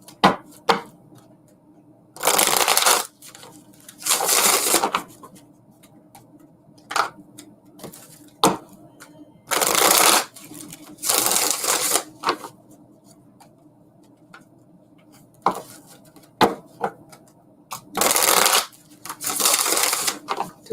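Tarot cards are shuffled in loud, crisp bursts lasting about a second each, recurring every few seconds. Soft taps and handling clicks fall between the bursts, close to the listener.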